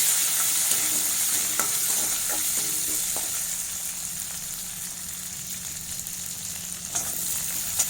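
Ginger garlic paste, curry leaves and chillies sauté in hot oil, a steady close sizzle and fry hiss lasting throughout, with faint stirring scrapes now and then.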